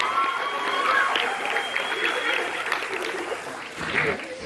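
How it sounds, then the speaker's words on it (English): A crowd at a hypnosis show applauds with steady clapping that rises and then tapers off, with some cheering mixed in. "Give him a nice round of applause"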